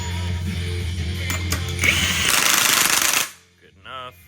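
A ratchet tightens the new sprocket on a Yamaha XSR900 motorcycle, giving loud, rapid clicking and grinding that stops abruptly, followed by a brief, quieter sound at the end.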